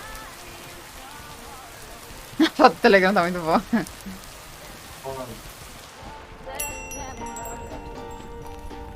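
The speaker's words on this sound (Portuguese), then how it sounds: "tá chovendo" Rain patters steadily in the video game Lake, a soft continuous hiss beneath someone talking briefly and light game music with chiming tones toward the end.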